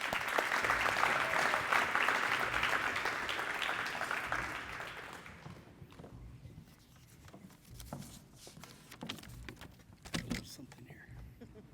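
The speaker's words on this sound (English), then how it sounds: "let's keep that applause going" An audience applauds at a high school letter-of-intent signing ceremony. Strong, dense clapping fills the first few seconds, then thins out and fades by about the midpoint, leaving scattered small room noises and rustling.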